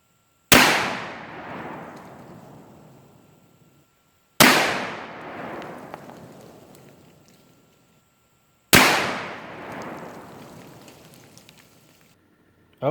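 Three heavy handgun shots from a .460 Bone Collector loaded with 300-grain bullets boom out about four seconds apart, each a loud, close blast with a long rolling echo that dies away before the next.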